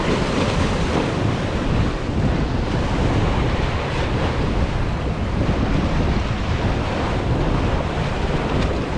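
Energetic ocean surf at Prachuap Khiri Khan Beach in Thailand crashes and roars continuously, loud and close, with wind buffeting the microphone throughout.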